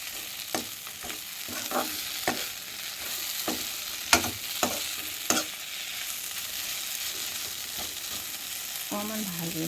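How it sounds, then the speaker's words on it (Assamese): Dry fish sizzles steadily in a hot pan while a spatula stirs it, with sharp scraping clinks against the metal every second or so; near and fairly quiet, with no talking. "আগত ভাজি লোৱা হৈছিলে বাৰু মাছখিনি, আকৌ অকণমান ভাজি ল'ম"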